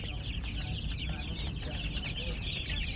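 Twenty-four-day-old chicks scurrying about and cheeping in a dense, continuous chorus of high chirps over a low background hum.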